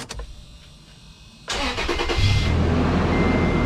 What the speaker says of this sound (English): So I'm going to be starting up the vehicle.